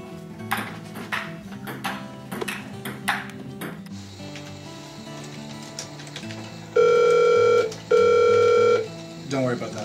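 A landline telephone rings twice in two long, loud bursts partway through, with clatter and brief voices before and a shorter tone after.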